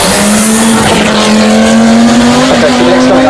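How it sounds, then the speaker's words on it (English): An Audi Quattro rally car runs loud and close at the Cholmondeley Pageant of Power, its engine holding a steady, slowly rising drone with rough exhaust texture throughout. "so next coming up then as the Quattro arrives"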